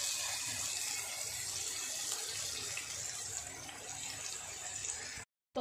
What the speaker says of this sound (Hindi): तो अब हम इन पीसेस को अच्छे से फ्राई होने देंगे